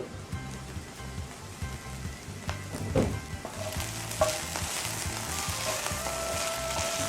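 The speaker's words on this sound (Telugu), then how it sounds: "ఇప్పుడు చూడండి, బెండకాయలు బాగా ఫ్రై అయ్యాయి కదా." Okra fries in a pan for a non-sticky bhindi fry, a continuous close crackling sizzle with a few scraping stirs and clinks, growing slightly busier toward the end, with no voices.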